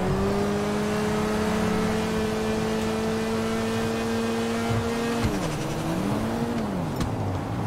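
An engine note from a car in GTA V holds steady at high revs, then drops and wavers as gears shift, a loud continuous drone without talk.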